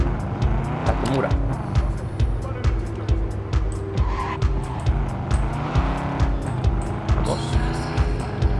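A Mustang-like car in Cyberpunk 2077 drives with a steady engine drone, tire squeals and skids scattered throughout, and someone talks over it.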